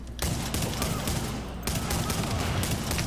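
Blind fire in the Tom Clancy's The Division video game: a dense, continuous burst of rapid gunshots that breaks off briefly, then resumes just as heavy, loud and close.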